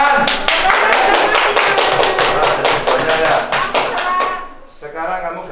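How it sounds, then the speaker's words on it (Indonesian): Children clap hands together in a classroom, a loud, fast run of sharp claps lasting about four seconds before stopping abruptly, followed by a brief voice. "Oh, hebat. Tepuk tangan."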